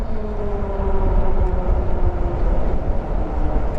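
Road traffic rolls past an ebike rider stopped at the roadside, a loud broad rumble of passing cars with engine drone and tyre noise, steady and close.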